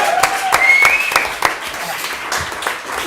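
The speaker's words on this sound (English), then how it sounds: "Let's go straight into the applause for Jack Brunel" An audience applauds at an Arenacross British Championship press conference for the newly crowned champion, a close burst of dense clapping with a faint electronic tone running through it, and no voices over it.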